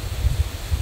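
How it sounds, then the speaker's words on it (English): Wind blowing outdoors on a blustery day after rain, a steady low rumble of gusts buffeting the microphone with a soft rustle, swelling and easing over a brief moment. "but it is windy"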